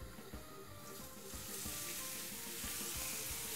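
Pork pieces sizzle in hot olive oil in a pan, a constant bright crackling fry close up, with faint periodic thumps and stirring underneath and no voices.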